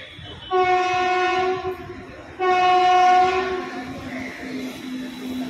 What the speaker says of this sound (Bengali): আর একটা আসছে কলকাতা গাড়ি।